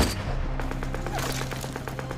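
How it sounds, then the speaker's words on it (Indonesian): Rapid gunfire rings out in a war film, a series of sharp repeated shots over a low droning background, fairly loud throughout. "Namun sayangnya, tembakan Gregory masih meleset"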